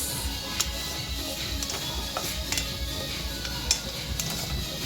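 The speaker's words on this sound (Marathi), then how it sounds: "आता आपण भाजू खोबऱ्याचा कीस." Grated coconut dry-roasting in a pan while making misal masala, with a steady soft scraping and stirring texture and scattered light clinks of utensil against metal; no talking.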